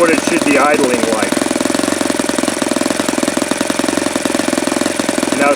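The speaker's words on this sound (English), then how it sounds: "This is what it should be idling like." A Saito FA-72a four-stroke model airplane engine idles with a rapid, even popping chug, loud and close. A person speaks briefly at the start over the engine.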